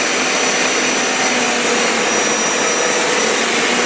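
A Hoover Power Scrub Elite Pet carpet cleaner, model FH50251 from the Professional Series, runs with a loud, steady, unbroken roar and whine close by. No voices are heard over the machine.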